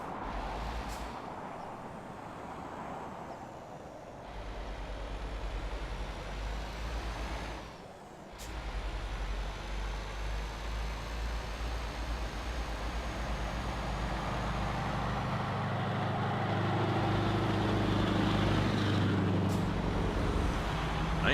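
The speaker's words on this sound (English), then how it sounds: "Nice sound on that truck." A truck in Euro Truck Simulator 2 rumbles with a steady low engine drone, broken by short hissing air-brake releases, building gradually louder toward the end with no talk over it.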